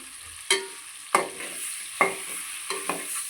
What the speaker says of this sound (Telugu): ఇప్పుడు ఎగ్స్ బాయిల్ చేసుకున్నాం కదా, అది మనం ఇందులో వేసి వేయించుకుందాం.